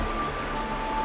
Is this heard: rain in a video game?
yes